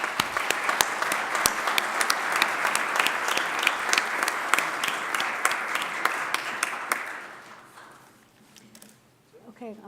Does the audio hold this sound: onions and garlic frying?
no